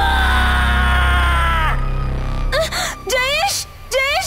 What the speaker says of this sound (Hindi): मुंजिया एकदम जोर से चीखता है।